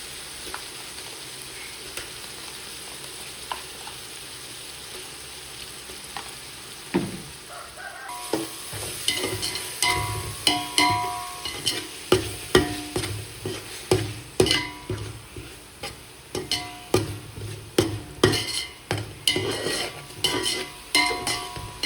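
Ginger-garlic paste (75 g each) fries in oil for seeraga samba mutton biryani, scraped and stirred continuously. After a quieter start, a loud, close run of repeated spoon strokes plays over a steady sizzle, with no talking.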